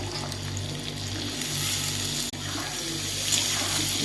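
Ridge gourd and potato pieces going into hot oil for a fish curry: a continuous loud hiss and sizzle with steady low bubbling, broken by one brief dip in the middle.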